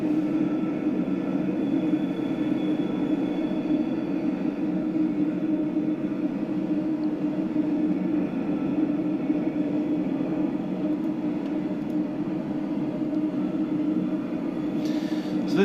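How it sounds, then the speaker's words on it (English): A London Underground Bakerloo Line tube train arrives at a platform in the Train Sim World 2 game, giving a steady, loud rumbling roar that holds throughout. "Here comes our train."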